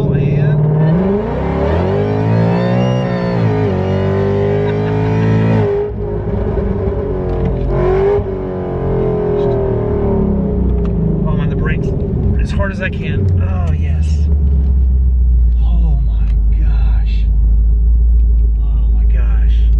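A Ford Mustang engine with a VMP Odin supercharger and whine mod revs hard with a deep, loud rumble, pitch climbing and falling, then settles into a steady low drone; someone speaks briefly over it.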